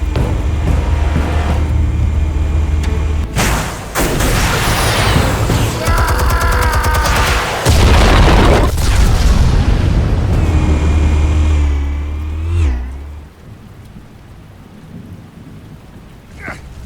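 A huge explosion from Batman: The Telltale Series game, booming and rumbling loudly for several seconds with crashing debris and metallic ringing, then decaying into a softer fading rumble.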